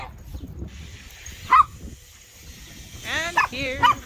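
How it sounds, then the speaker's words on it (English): Wild puppies making a few brief yips and whimpers, up close and moderately loud, broken by quiet gaps over low background rumble. "Wild puppies."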